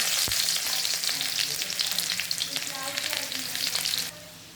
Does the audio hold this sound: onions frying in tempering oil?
yes